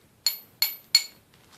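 A hammer taps a big, long metal nail three times at an even pace, each a sharp bright metallic clink ringing briefly, up close.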